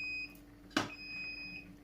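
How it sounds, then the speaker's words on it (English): A single short electronic beep from a Grainfather brewing controller, sounding once at a clear level over a steady faint background tone in a quiet room. "So as soon as it beeps, you can get that first addition in."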